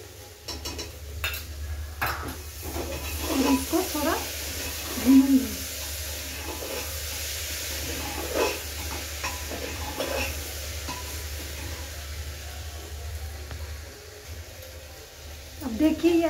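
Veg biryani ingredients fry in a pan right after yogurt goes in, a steady low sizzle and hiss with scattered scraping stir and utensil clinks against the pan, a few louder knocks near the middle and end.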